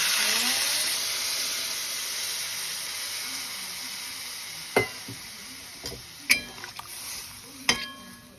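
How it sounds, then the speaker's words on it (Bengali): Potatoes frying in a pan with ground coriander, cumin and turmeric, a steady soft sizzle and hiss throughout, broken by a few sharp clinks and scrapes of a utensil stirring against the pan. "ধনে, জিরে গুঁড়ো, হলুদ গুঁড়ো দিয়ে এটাকে একটুখানি কষতে দিয়েছি আলুটাকে একটু"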